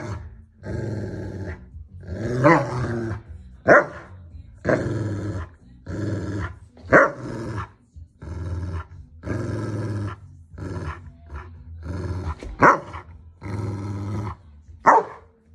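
A dog growls and barks ferociously with a bone held in its mouth, indoors at home; repeated loud bursts of muffled barking and rumbling growls come close up with short gaps between them.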